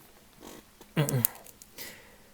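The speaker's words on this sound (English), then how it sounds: "I just had to clear my throat right there" A man clears his throat once, close to the microphone, in a short rough burst that lasts about a quarter second, with quiet room tone before and after.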